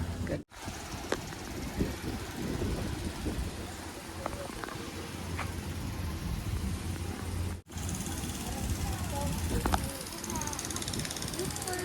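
Strong wind at Mactan beach in Cebu, Philippines, a continuous rough buffeting roar across the whole stretch with brief drops, loud and close, with voices talking faintly beneath it.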